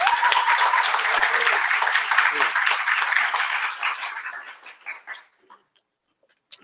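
An audience at a plenary session applauds warmly, a dense round of clapping that holds for a few seconds and then thins out into scattered claps and fades away.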